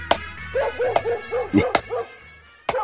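A dog barks repeatedly nearby, a quick run of loud woofs and yelps with whimpering tones between them, and one last sharp bark after a short pause.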